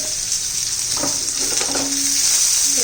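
Beans, cabbage and carrot fry in a little oil, a steady close sizzle with a few stirring scrapes, no voices.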